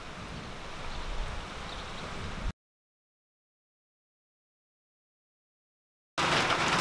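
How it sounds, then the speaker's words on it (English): Heavy rain after a long drought makes a steady, dense hiss with a rumble of wind. The sound cuts out completely for several seconds, then returns louder and brighter. "After months and months without rain, we finally are getting a big rain."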